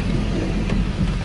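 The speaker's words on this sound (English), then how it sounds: "It raining out here. Look at my window." Steady rain drumming on a car during a thunderstorm, heard from inside the vehicle as a dense, even wash with low rumbling beneath and no talking.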